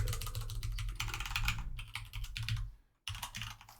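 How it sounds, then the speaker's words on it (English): Someone types on a computer keyboard as a close, dense run of quick clicks that pauses briefly near the end and then resumes. No one speaks over it. "then you type in -30 from the keyboard here"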